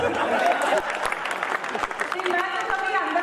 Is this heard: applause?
yes